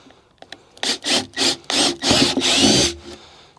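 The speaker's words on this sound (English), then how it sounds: "So we're going to take a 3/8 wood drill bit" Wood being bored with a 3/8-inch wood drill bit, making a pilot hole in the corner of a cutout for a return air register; five or six loud, close rasping bursts of grinding sound, each about half a second long, follow one another in a steady rhythm.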